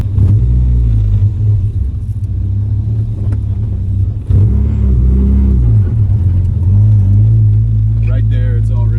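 A Mazda Miata drift car with a welded differential rumbles from inside the cabin, low engine drone surging and easing as it drives, loud and steady with a driver talking over it.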